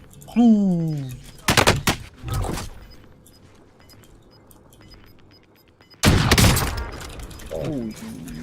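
Loud bursts of rapid gunfire from Call of Duty: Warzone, a fast-firing LW3 sniper rifle, two volleys separated by quieter stretches, with brief whooshing and mechanical sound effects.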